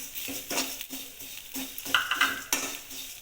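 Roasted vermicelli tipped into a hot pan for shavige uppittu and stirred, with spoon scrapes and clinks against the pan over a light sizzle, close and uneven.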